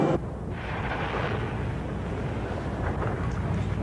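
A torpedo launches from a naval vessel in a television warship drama, heard as a sudden loud burst followed by a sustained, dense whooshing rush with a deep rumble that carries on for several seconds.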